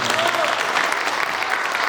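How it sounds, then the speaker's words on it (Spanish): Audience applause at a cultural storytelling event in a museum, a dense, steady wash of clapping from a gathered crowd that stays loud and even for the whole stretch. "Vamos a recibirla con un aplauso nuevamente."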